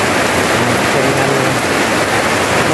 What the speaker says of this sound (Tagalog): Ayun, lalong lumakas yung ulan.